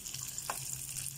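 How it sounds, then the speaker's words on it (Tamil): Garlic and shallots sauté in a pan for mutton pickle, a faint steady sizzle with a single soft stirring tap, quiet and brief with no voices. "நல்லா வதக்கிடுவோம்"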